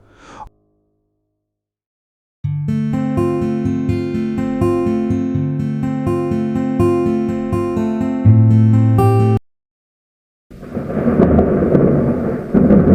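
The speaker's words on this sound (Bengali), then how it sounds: "অনেক জোরে বজ্রপাত হচ্ছে দেখছি।" A cartoon thunderstorm with loud thunder and rain: a sustained musical passage plays, then after a short silence a heavy, broadband rumble of thunder and rain surges in near the end.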